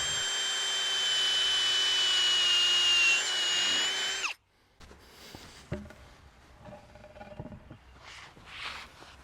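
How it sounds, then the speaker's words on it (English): A power drill with a paddle bit grinds steadily through a wooden fence post for about four seconds, then stops abruptly, leaving faint outdoor rustling and handling sounds. "So I'm gonna have to drill through from both sides."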